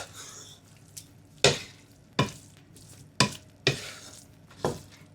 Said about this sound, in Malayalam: ഇനി മസാല നമുക്കൊന്ന് മിക്സ് ചെയ്തെടുക്കാം.